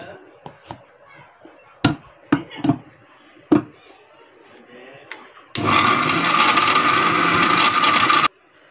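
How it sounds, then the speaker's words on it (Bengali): A mixer blender grinds small pieces of bread into breadcrumbs. Scattered knocks and taps come first, then a loud, even whirring grind runs for about three seconds and cuts off sharply. "এবারে আমি মিক্সার ব্লেন্ডারে এগুলো ব্লেন্ড করে নিব"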